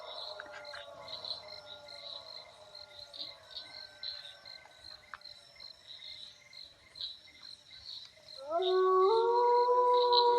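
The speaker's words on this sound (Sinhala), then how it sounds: "අතනින් බල්ලා යනවර" Outdoors at night, crickets chirp throughout against faint, drawn-out wailing tones. Near the end, a dog lets out a loud, close, sustained howl.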